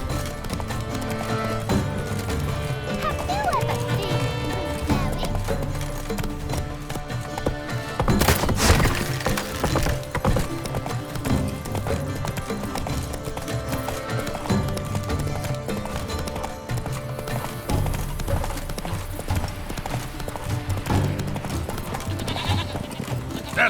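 Hoofbeats of a horse galloping through the game The Witcher 3, a steady clip-clop drumming under layered game music and ambience, with a louder burst partway through.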